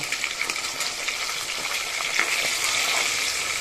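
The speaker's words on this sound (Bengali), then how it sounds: "এবার মাছগুলোকে উল্টে দেব" Steady, close sizzling of fish frying in a pan, a dense crackle of hot oil with occasional louder pops, continuing without pause.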